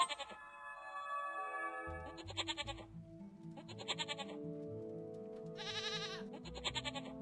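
Goat bleats in the puzzle game Rusty Lake Paradise, several loud wavering cries repeated in bursts over a low droning musical backdrop, with no talking.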